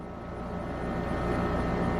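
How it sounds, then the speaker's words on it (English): Steady low droning hum of an air conditioner, broadband and unchanging, running continuously in the room with no other sounds. "So sorry if you can hear the air conditioner in the background."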